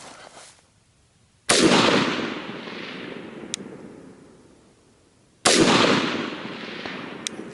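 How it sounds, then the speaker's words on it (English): Two sharp gunshot muzzle blasts from a friend's firearm, about four seconds apart, each loud and near with a long fading echo rolling out afterward, alone with no talk. "I can see the muzzle blast"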